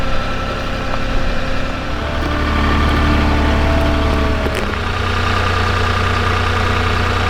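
A delivery truck's engine idles close by at a tiny-house construction site: a loud, steady low rumble that drones on without a break.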